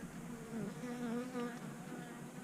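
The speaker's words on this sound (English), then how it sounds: "Bee, get out of here and leave me alone." A honey bee buzzes close around a beekeeper working the hives, a steady droning hum that wavers in pitch as the insect circles near.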